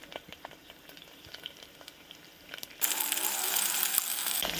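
Green chillies and curry leaves hit a hot pan for a gutti vankaya masala curry, a quiet stir giving way to a sudden loud steady sizzle that carries on.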